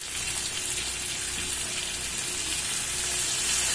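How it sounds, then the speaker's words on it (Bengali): Mutton boiling water poured into frying mutton for a mutton curry, a loud broad wash of hissing, bubbling sizzle that holds steady and swells slightly toward the end, with no talk. "এবার আমি ওই মাটনে সেদ্ধ জলটা দিয়ে দিলাম।"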